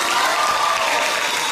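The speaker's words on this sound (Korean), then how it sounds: "모두 고생하신 스태프 배우분들께 다시 한번 큰 박수 부탁드리겠습니다" Applause from a theater audience for the cast and staff at the closing curtain call of the musical Catch Me If You Can, a dense, sustained clapping filling the hall with some crowd noise.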